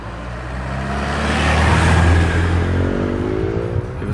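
A modified Mini Cooper races in a heist-film car chase, engine revving loudly as it accelerates and climbs in pitch, then roars past with whining gear tones and steady road noise.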